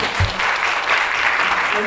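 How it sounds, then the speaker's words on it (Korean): An audience claps to thank a professor at the close of a lecture at a Korean play-reading event, a dense steady patter of many hands running throughout. "박수 한번"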